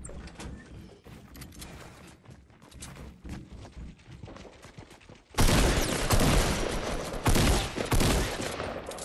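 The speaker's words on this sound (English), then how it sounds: "We're getting shot." Heavy gunfire in the Fortnite battle royale video game suddenly erupts after quieter game noise, a loud, dense burst of rapid shots and impacts continuing for several seconds.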